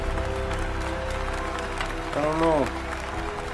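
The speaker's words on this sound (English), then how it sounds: "Why are they cheering?" Audience applause and cheering from a crowd at an event, a steady broadband wash of clapping running under a voice, with a brief swell near the end.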